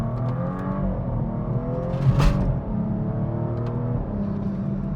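A BMW accelerates while driving, its engine note climbing through rising revs with a brief shift midway, the steady drone heard close from inside the car without speech.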